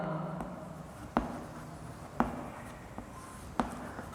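Chalk or marker taps and strokes on a classroom board while a probability formula is written for a tenth-grade math lesson, sparse sharp ticks spaced about a second apart over a steady room hiss, with no talking.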